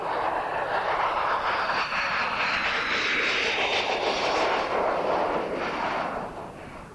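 A MiG-29 jet fighter roars past in a loud, sustained broadband rush of engine noise that fades slightly at the end.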